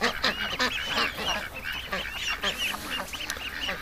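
Many young and older farm ducks scattered around a lake in the morning chatter continuously, with dense overlapping quacks and peeps at moderate distance and no voices.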